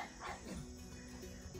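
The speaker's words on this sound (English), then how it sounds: "start barking like crazy" Pugs bark at a distance at deer, faint yips and woofs over a constant outdoor hum.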